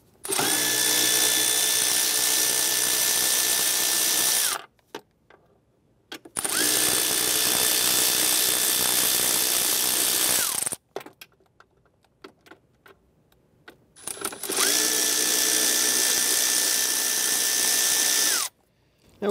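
Power drill or driver running in three sustained bursts, backing out 8mm screws from the center console of a 2005-2010 Chrysler 300, close and loud with quiet gaps between runs.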